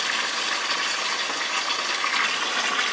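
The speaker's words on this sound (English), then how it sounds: "I'm filling up my tub, so there's a ½ inch of water inside my empty cups" Water pours steadily from a tap into a tub holding empty cups, a constant close hiss and splash with no talking.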